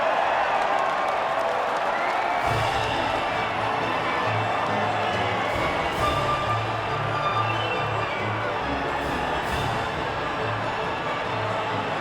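Crowd cheering and applauding at the podium after the Belgian Grand Prix in the F1 2019 racing game, a steady continuous roar with a low music bed running underneath throughout.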